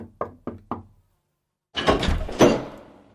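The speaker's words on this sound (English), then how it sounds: "They knocked on the palace door." Four quick knocks on a palace door ring out in an even rhythm, close and crisp, followed after a pause by a heavier thudding rumble.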